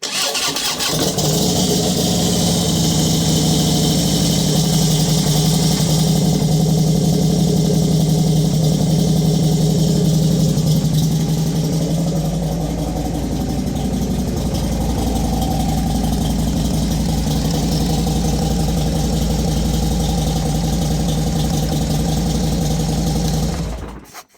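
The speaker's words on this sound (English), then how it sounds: "Now let's just listen to the, beyond exhaust, listen to the motor." A motorcycle engine idles steadily after a base plate repair, a loud, continuous low rumble with a brief engine catch at the start, holding an even throb close to the microphone before cutting off at the end.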